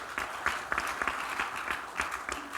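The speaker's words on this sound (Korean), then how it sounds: "박수 한번 쳐줘요." A church congregation at a New Year revival service applauds briefly, a brisk patter of many hands clapping together at moderate volume for a couple of seconds.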